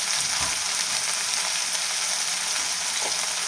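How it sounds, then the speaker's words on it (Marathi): Green chillies and garlic fry in hot oil in a steady, loud, hissing sizzle with faint crackles and occasional stirring, and no voices. "आता हिरवी मिरची आणि लसूण तळल्या"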